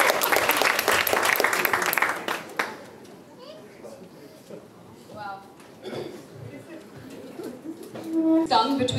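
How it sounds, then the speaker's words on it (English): Audience at a book launch claps loudly for Isha for roughly two and a half seconds, then the applause dies away under chatter, a voice and faint bird coos. "Let's all clap for Isha."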